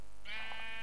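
A single bleat from a Minecraft sheep, close and clear, a short wavering cry that rises and trails off.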